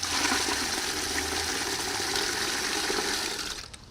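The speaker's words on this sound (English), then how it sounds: "I fill up a 5-gallon bucket." Rainwater collected from the earth in a barrel pours into a 5-gallon bucket, a steady loud gushing rush that runs continuously before easing off at the end, with no talk over it.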